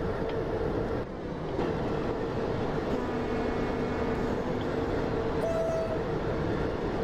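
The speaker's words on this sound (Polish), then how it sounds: "Jakoś mi się nie podobają te dźwięki niskiego tonu w tej lokomotywie." An EP08 electric locomotive hauling ten wagons in the Maszyna train simulator, a continuous loud rumbling drone with steady low hum and faint tonal whines, heard without voices.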